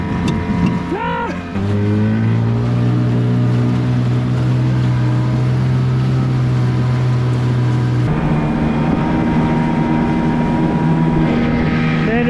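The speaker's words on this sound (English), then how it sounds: "There's full throttle. She's bogging a little bit." An 8hp Johnson outboard motor that sat unused since the 1990s runs at full throttle on a small 10 ft kids' boat, giving a loud, steady, buzzing drone after a brief rev change near the start.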